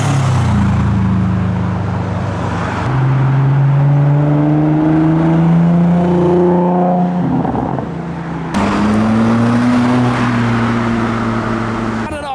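A modified Nissan S14 rolls into a Japanese car meet, its engine note climbing and falling through several loud, close revs and gear changes, with a sharp cut partway through.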